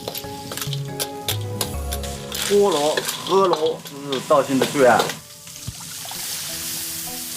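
Snails stir-fried in a wok in Daoxian, Hunan, with star anise, tsaoko, ginger, hawthorn and bean paste, sizzling and scraping steadily beneath a narrating voice, then carrying on alone at the end.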